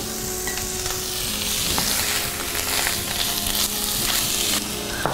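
Crumbled feta cheese is stirred into a hot pan of filling, with a continuous soft sizzle and occasional scraping stir strokes.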